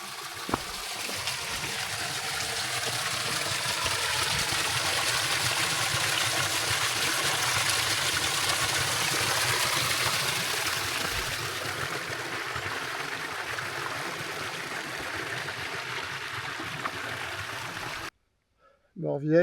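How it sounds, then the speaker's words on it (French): Small forest waterfall spilling into a little pool, a steady broadband rush of falling water that holds evenly for most of the stretch, then cuts off abruptly near the end, with only faint voices under it. "Ah, écoute, c'est une cascade."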